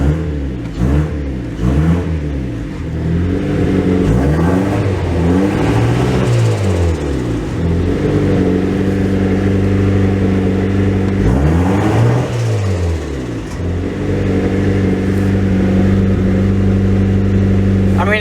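A car engine with vacuum leaks idles a little high, giving a steady, close mechanical drone that swells in pitch a few times as if briefly revved, then settles back.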